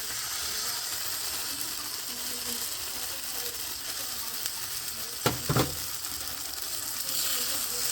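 Eggs frying in a pot of lemon rice with breakfast masala give a steady, even sizzle throughout, with a couple of brief clatters of stirring near the end.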